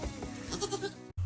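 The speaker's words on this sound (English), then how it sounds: "just wanted to come out here and spend time with the goat babies" Baby goats in a snowy farm pen give a short, wavering bleat, close and clear over a low background rumble, cut off abruptly near the end.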